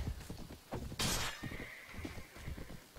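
In the Mount & Blade: Warband Viking Conquest game, a pony whinnies sharply, with hoof clip-clops and a brief crashing thump nearby, all fairly close.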